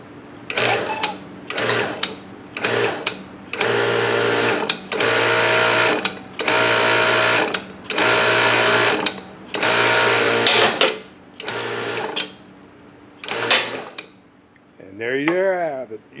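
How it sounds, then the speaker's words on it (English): An EP200EH hydraulic die set, run from a pendant control, punches through in repeated short powered bursts: a whirring pump drone switches on and off in a steady on-off rhythm, with clicks and a faint metallic clatter at the end. "It's best if you kind of creep up on it and then just kind of bounce it as the die set"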